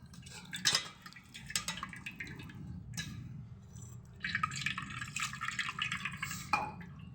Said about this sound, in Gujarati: હવે આ ગાળી લીધું છે ઠંડુ પાણી નાખી દેશું એટલે ઠંડુ પડી જાય